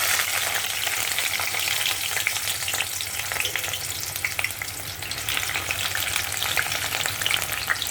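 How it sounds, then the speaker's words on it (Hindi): Brinjal fries in hot mustard oil for pickle, giving a steady close crackling sizzle with occasional stirring clatter, continuous and without speech. "तो चलिए अब हम बैंगन डाल देते हैं इसमें फ्राई होने के लिए।"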